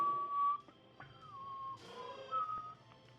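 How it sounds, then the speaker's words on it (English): A person whistles off-tune, softly and fairly close. The clear tones come in short phrases broken by small clicks and breathy noise. "enjoy my off-tune whistling"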